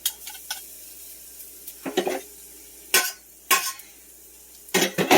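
Garlic is pressed into a hot pan with a knife while cooking shrimp scampi: a few sharp metallic clanks and scrapes of the blade against the pan, spaced apart over a quiet sizzle, with no voices.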